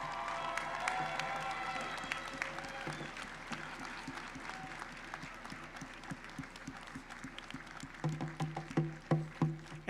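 Graduates at a university commencement ceremony applauding their families and friends, a steady crowd clapping that swells and grows louder toward the end, with scattered bursts standing out.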